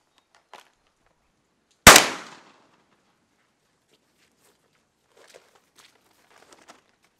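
A single loud, sharp shotgun blast of a Black Cloud 3-inch four shot duck load, 1 1/8 ounce, fired outdoors at a pattern test, with a quick decaying echo and faint rustles and footsteps afterward.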